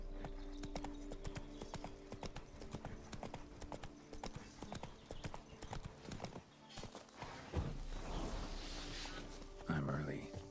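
Horse hooves clip-clopping steadily in the video game The Witcher 3, a close rhythmic trot with game ambience and a brief whinny near the end, while someone talks over it.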